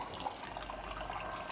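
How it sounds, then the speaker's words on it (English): Wine poured into an ancient Greek Pythagorean cup in a museum of ancient technology: a soft, steady trickling of liquid, faint and close, lasting under two seconds with no talking. "So I'm going to pour some wine."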